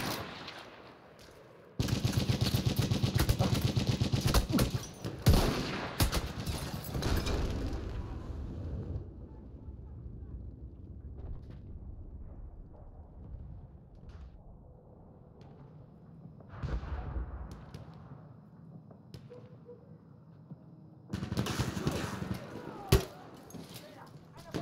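Enemy machine gun fire in a war video game, long loud bursts of rapid gunfire that stop, then return near the end, with quieter battlefield noise and voices in between.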